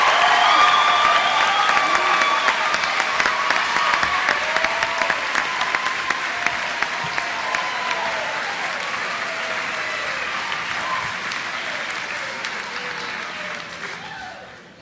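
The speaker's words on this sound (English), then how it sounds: "Please start clapping." A crowd at the Littleton High class of 2009 graduation ceremony breaks into long, sustained applause with scattered cheers, a broad roar of many hands that slowly fades over about fifteen seconds, with voices faintly beneath.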